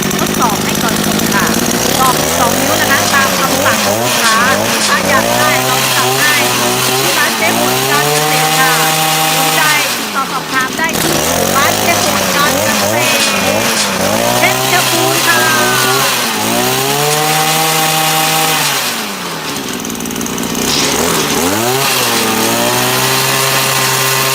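A small petrol engine on a wheeled earth auger drill rig frame runs loudly and close by, revving up and down in repeated surges with brief dips between them and no voices.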